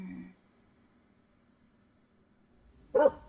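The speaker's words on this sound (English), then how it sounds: "That was a woof woof." A single short dog bark sounds near the end, fairly close and alone, after a brief low sound at the start and a quiet stretch.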